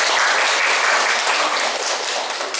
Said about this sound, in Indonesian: tepuk tangan untuk awal